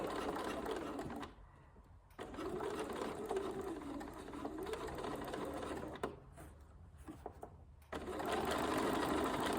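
A sewing machine stitches carefully along the bulky side seam of a zipper pouch, running in steady stretches broken by two brief pauses, close and alone.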